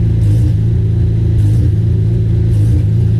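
Honda Civic drag car engine held at steady high revs with the throttle stuck wide open, a loud continuous droning roar with slight surging, no talk.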